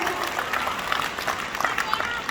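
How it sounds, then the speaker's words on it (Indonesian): Brief burst of crowd applause at an Oriflame sharing event in Jakarta, dense, steady clapping heard close and fairly loud for a couple of seconds. "tepuk tangan dulu dong buat Oriflame"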